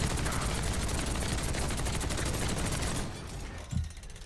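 Wrecking Ball's rapid-fire guns in Overwatch blaze at an armored Reinhardt, a dense continuous gunfire rattle for about three seconds that then drops off, followed by a brief low thud.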